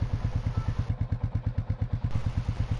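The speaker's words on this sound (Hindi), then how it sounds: "चलो देखते हैं इंजन रेव करने पे कैसे साउंड करती है." Royal Enfield Meteor 350 BS6 motorcycle engine held at a steady, lumpy idle-to-light rev, a loud close thumping pulse repeating about eight times a second with no voices.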